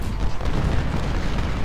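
Booming artillery fire from a Civil War cannon battle at Brandy Station in the strategy game Ultimate General: Civil War, a dense continuous rumble of blasts with no clear gaps between shots.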